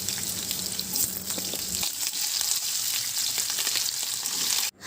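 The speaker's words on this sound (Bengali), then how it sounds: "তেলটা গরম হয়ে আসলে আমরা সবার প্রথমে আলুগুলোকে ভেজে নেব।" Potatoes fry in hot mustard oil with a steady, close sizzle and crackle that holds for almost five seconds, stirred now and then, and breaks off sharply just before the end.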